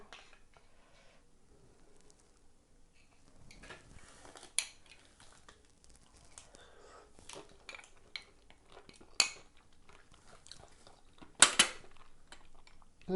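A metal spoon scrapes and taps against fresh shellfish in a dish, with scattered soft clinks and a few sharp louder clicks, close and quiet, no talking.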